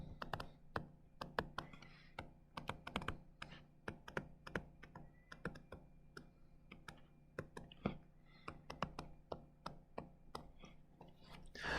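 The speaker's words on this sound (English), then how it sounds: "So this is what I will type in, this fraction, on my calculator." Light plastic clicks of calculator keys being pressed as a fraction is entered, irregular taps near and close, some in quick clusters, alone with no talk.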